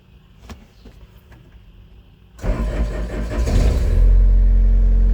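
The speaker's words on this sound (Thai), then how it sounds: "ฟังเสียงเครื่องยนต์สตาร์ทนะครับผม" Quiet clicks and faint sounds, then a car engine cranks and catches, rising into a steady, louder idle close by.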